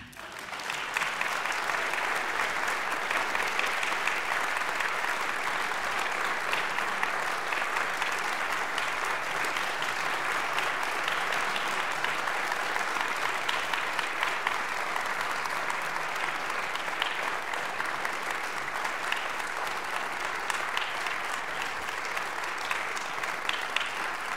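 Sustained applause from a large concert audience, steady and dense throughout, with no pauses or voices standing out.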